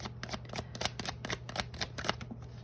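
A deck of tarot cards is shuffled close up, producing a rapid run of crisp riffling flutters and soft slaps that repeats for several seconds against a faint background hum.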